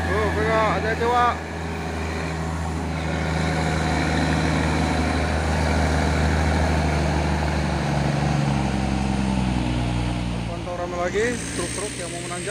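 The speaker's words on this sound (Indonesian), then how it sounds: "Lagi truk-truk yang mau menanjak, truk Hino Lohan TI dan truk Tronton Pusoren 6x4 HD." Heavy trucks, a Hino and a Fuso Tronton 6x4, grinding uphill with a continuous low engine drone, joined by a horn-like tonal blare at the start and end.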